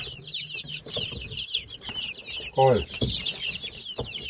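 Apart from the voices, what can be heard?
chickens clucking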